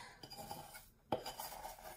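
Hot homemade clay dough being spooned out of a pan, a few scraping clinks of a metal spoon against the pan, the loudest one sharp and near, with no voices.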